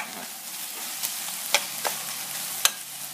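Pork frying with basil in a hot pan, a steady bright sizzle with a few sharp pops and spatter bursts over the hiss, close and fairly loud.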